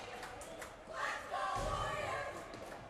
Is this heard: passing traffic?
no